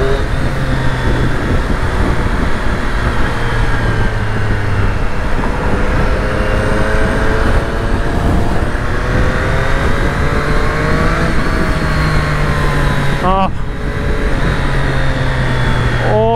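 A 2020 Triumph Street Triple RS motorcycle in road mode pulls hard in second gear, its engine a steady, loud drone with rising pitch sweeps as it accelerates, wind noise underneath, and a couple of quick revving bursts near the end.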